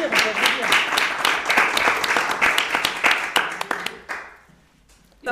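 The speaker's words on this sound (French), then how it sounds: "Oui, on peut applaudir" An audience claps warmly at a clown performance event, a dense steady round of applause for about four seconds that quickly fades to near silence, with a brief sound returning at the very end.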